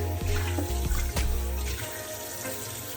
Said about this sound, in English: we are going to let the grease drain out